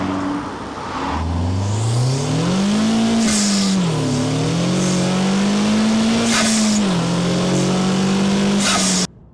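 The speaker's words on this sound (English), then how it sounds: "like this car, a nice blow-off valve" Honda Civic Type R FK2 hot hatch with turbocharged VTEC engine, revving loudly and rising through the gears while passing nearby, with sharp turbo blow-off valve whooshes between shifts and no talk.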